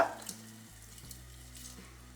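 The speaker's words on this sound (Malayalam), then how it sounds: "അതുകൊണ്ട് വേവാൻ വേണ്ടി കുറച്ചുകൂടെ വെള്ളം നമ്മളിതിലേക്ക് ചേർത്ത് കൊടുക്കുകയാണ്" Water is poured into a pot of simmering vegetables for Kerala egg aviyal. The pour makes a brief, close splash and gurgle that settles into a soft, steady wash, with no talking.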